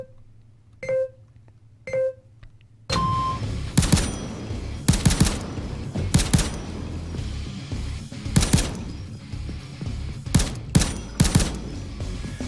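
Gunfire from a rifle set off auto fire in the video game Payday 2: two soft beeps, then a series of loud, sharp single and double shots spaced irregularly, each ringing out over a quiet background.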